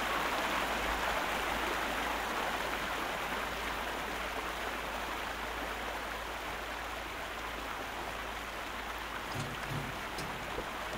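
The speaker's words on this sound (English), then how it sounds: "This water's quite loud." Loud flowing water in the video game The Last Stand: Aftermath, a steady, broad rushing stream sound that fills the whole stretch without pause, close and constant, with a few faint clicks near the end.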